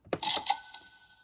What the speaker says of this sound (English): The Bingo button makes cash register noises